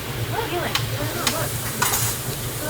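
Food frying in a hot pan, with sharp bursts of sizzling and hissing as pieces hit the surface over a steady background hiss.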